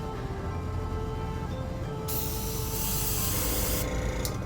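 An airbrush sprays fae-style makeup onto a nose, a steady close hiss that swells louder partway through over a low background rumble.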